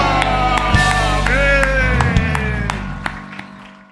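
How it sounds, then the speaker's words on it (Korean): A congregation claps together at an Easter worship service, a dense, steady wash of applause over sustained music that fades gradually toward the end. "영광의 주님 영광의 박수 올려드립니다"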